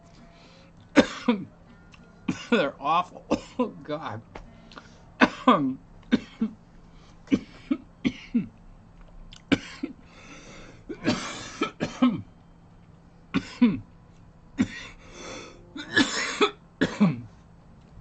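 Repeated harsh coughing fits, bursts of two or three coughs with short gaps, close and loud, with a few strained words muttered between them.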